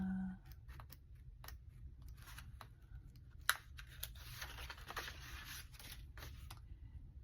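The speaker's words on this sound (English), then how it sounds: "My little baby scissors don't want to get in there very well" Small scissors snip through paper in a Christmas tree craft, giving brief crisp cuts and scrapes that sound close and faint against a low steady background hum.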